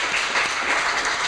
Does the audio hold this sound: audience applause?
yes